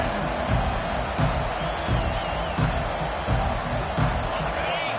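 Crowd at a football stadium roaring and cheering in a dense, continuous wall of sound, with occasional swells, heard alongside play-by-play talk.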